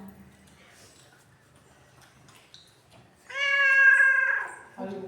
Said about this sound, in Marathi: बोका आहे, बोका हा.